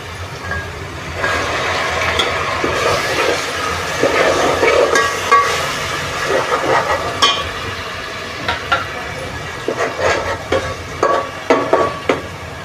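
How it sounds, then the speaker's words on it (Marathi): Onion paste sautéing in a pan for pav bhaji, a loud sizzle with scraping stirring strokes that grow choppier toward the end, no voices. "आता 2 मिनटं परतूया. आता कांद्याची पेस्ट टाकून घेऊ."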